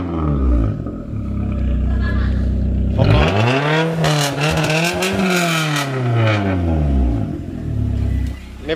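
A Proton Exora car's exhaust roars up close as the engine is revved, rising to a peak and then falling back. A voice can be heard faintly beneath the engine noise.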